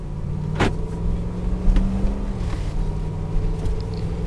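A 2010 Dodge Ram 1500 crew cab 4x4 pickup with a 4.7 V8 drives along with a steady engine drone and road rumble, a brief higher whoosh near the start and faint interior rattles throughout.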